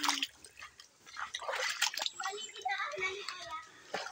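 Someone wades into cold river water at Dagatan, Sta. Lucia, Dolores, Quezon, with uneven splashing and trickling that comes and goes in bursts, close up.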